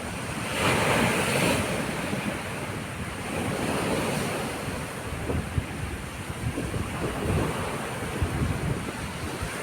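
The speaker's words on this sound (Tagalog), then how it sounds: "Grabe laki ng alon, no?" Large waves surge and break continuously on a beach at high tide during the southwest monsoon, with strong wind buffeting the microphone in a dense, roaring wash that swells and eases.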